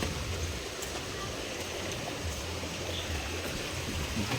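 A river flows in a steady, continuous rush of water, an even broadband wash heard close and unbroken throughout, with no voices over it.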